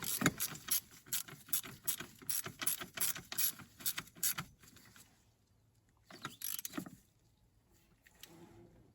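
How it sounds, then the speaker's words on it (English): Ratcheting and clicking of a socket wrench tightening two 10mm bolts on the EGR valve of a 2015 Renault Master 2.3 dCi van, a rapid run of close metallic clicks, a pause, then a shorter burst. "Just need to tighten down those two 10mm over there."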